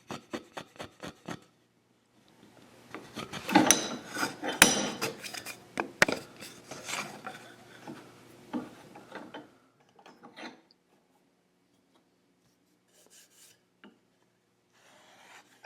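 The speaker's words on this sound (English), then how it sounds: "I carefully remove the material with the scratch stock," A scratch stock cuts a groove for a diamond inlay with a series of dry scraping strokes: a few quick short pulls at first, then a denser run of rasping passes, trailing off into sparse faint scrapes.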